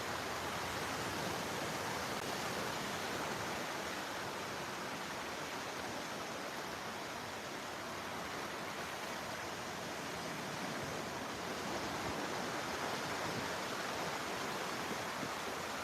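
Ocean waves breaking on a beach at low tide, a dense, constant wash of surf hiss with no distinct crashes, steady and moderately distant throughout.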